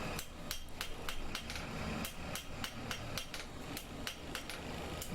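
A hammer taps steadily while window stays are fitted, a quick series of sharp, fairly quiet metallic knocks at an uneven rhythm, heard alone with no talking.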